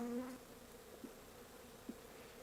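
Honey bees buzzing around an open hive during a spring inspection of a weaker colony, a soft steady hum with a couple of brief sharper buzzes as single bees pass close.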